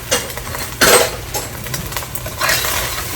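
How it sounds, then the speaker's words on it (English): Fried rice with eggs and chili garlic paste is stirred in a pan, a loud scraping utensil sound in a few bursts over a light sizzle, with no talking. "And then everything gets a good stir."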